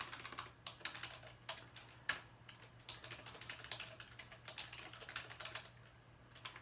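Quiet, rapid typing on a computer keyboard, irregular clusters of light key taps with a faint steady hum underneath.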